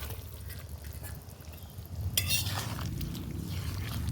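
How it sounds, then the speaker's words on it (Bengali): Fried gucchi fish and potatoes drop into a simmering curry gravy with a splash and a quick scrape of a utensil, followed by low bubbling and stirring at moderate volume. "এখন আমি ভেজে রাখা কুচি মাছ আর আলুগুলো দিয়ে দিচ্ছি"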